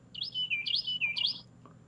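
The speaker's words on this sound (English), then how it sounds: "I am enjoying that bird." A bird calls at dawn with three quick, clear, warbling chirps in succession, close and bright over a quiet background.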